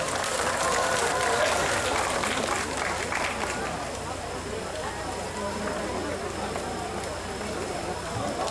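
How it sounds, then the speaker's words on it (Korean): A festival opening crowd gives a gayageum performer a warm welcome with dense, continuous applause. It is loud at first and eases slightly partway through, a steady wash of many hands. "여러분, 박고은 연주자를 뜨거운 박수로 맞이해 주시기 바랍니다"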